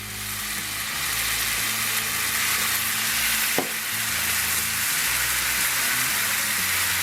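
Beer hitting a super hot cast iron skillet, a loud, continuous sizzle and crackle like heavy rain with a single sharp clack midway and no speech.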